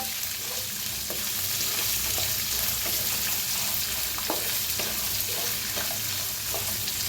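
Peas and rice sizzle steadily in a hot pan as they are roasted, with occasional stirring scrapes and clicks over the constant frying hiss.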